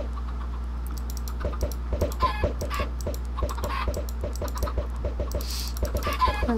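Minecraft chickens cluck in short bursts, hit with thrown eggs, over a steady run of computer keyboard and mouse clicks, with no talking.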